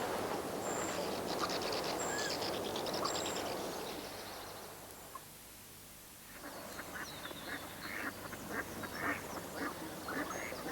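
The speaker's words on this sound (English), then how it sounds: "Tufted duck." A tufted duck gives repeated calls over a watery outdoor background, with a busy stretch of calling, then a quieter gap, then further bursts of calls.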